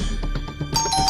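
A short electronic doorbell chime rings, a couple of bright tones sounding over a steady background hum.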